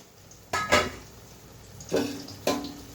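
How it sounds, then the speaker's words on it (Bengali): A metal lid clanks against a cooking pot of vegetarian Kashmiri potato dum in a home kitchen: a few sharp, close metallic knocks and scrapes in two separate bursts over a quiet background. "ঢাকনাটা উঠিয়ে দিই।"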